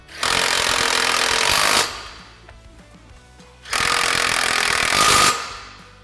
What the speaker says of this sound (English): Then we'll go ahead and fully tighten the two nuts on the studs.